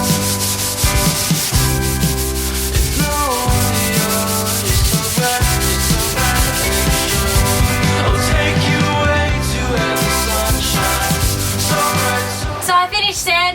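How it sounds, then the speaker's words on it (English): Woodwork on a sailboat is sanded before varnishing, a loud, continuous, rough rubbing that runs steadily throughout, close by with no talk. "So I finished sanding and I vacuumed the area"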